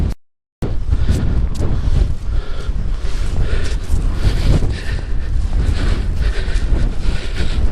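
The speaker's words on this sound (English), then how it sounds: "Although it's gorgeous sunshine, it's just a cold wind, that's all." Cold wind blowing on a sunny coastal walk between Dunbar and Dunglass, a loud steady roar buffeting the microphone almost throughout after a brief dropout at the start.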